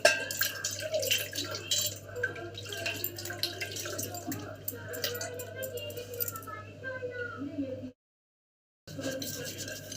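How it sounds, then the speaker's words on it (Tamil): A tamarind-cleaned brass lamp is rinsed under running water, with a continuous splashing and trickling wash and clinking metal that stops abruptly for about a second near the end before resuming. "நல்ல தண்ணியில் கழுவி வைக்கணும்."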